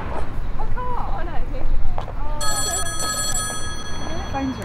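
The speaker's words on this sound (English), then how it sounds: "Phone's ringing." A telephone rings with a bright, steady electronic trill that starts partway through, heard over ongoing conversation and background movement in an indoor scene.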